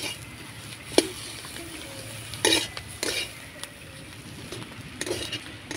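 A green pea filling for potato chops is turned in a pan, with soft scraping and a few sharper clinks of the utensil against metal over a faint low hiss.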